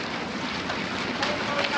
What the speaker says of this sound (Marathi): गारा गारा गारा हो गारा गारा झालं.